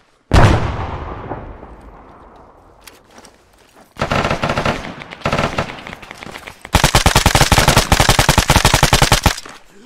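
Gunfire in the military shooter Arma 3. A heavy single blast rings out and fades, then come bursts of automatic fire, ending in a long, loud, rapid volley close at hand.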